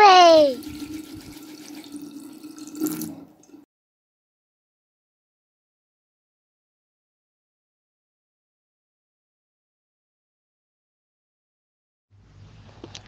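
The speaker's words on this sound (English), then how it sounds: "I'm washing my hands." Tap water runs into a sink for hand washing for about three seconds, moderately close, then stops and leaves a long silence before a faint low sound returns near the end.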